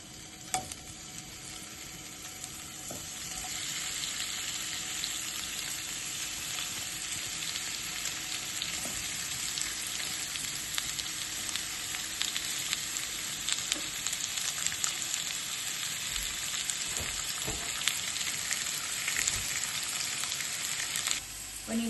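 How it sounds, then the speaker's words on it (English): Seasoned northern pike fillets sizzle and crackle steadily in hot olive oil in a pan, a loud, continuous frying hiss that rises after the first few seconds and holds with faint stirring ticks, no voices. "We want it to really sizzle when we drop that fish in there."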